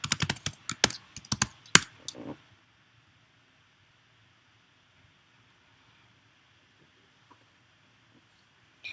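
A GitHub username and password are typed on a computer keyboard in a burst of quick, close key clicks lasting about two seconds, followed by near silence with one faint click near the end.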